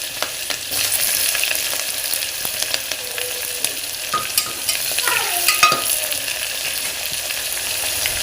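Sliced onion hits hot oil in a pan alongside chopped green chili for a village-style spiced rice with black beans, giving a steady loud sizzle with scraping stir strokes throughout and no talking.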